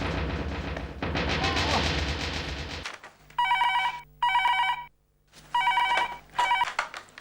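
A harsh wash of noise gives way to a telephone bell ringing in several loud bursts with short pauses between them.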